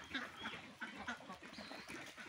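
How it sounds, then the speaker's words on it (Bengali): Khaki Campbell ducks quack in a quiet, rapid series of short nasal calls overlapping one another, heard from a little distance at a farm. "খাকি ক্যাম্বেল হাঁস আপনি চিনবেন।"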